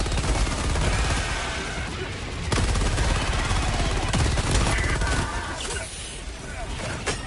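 A heavy machine gun emplacement fires in Helldivers 2, loud and dense. Rapid bursts blend into a steady roar of gunfire, with occasional booms and brief lulls.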